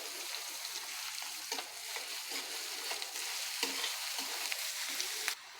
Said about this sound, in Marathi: कांदा परतून घ्यायचा आहे आणि आता आपण लगेच हळद घालू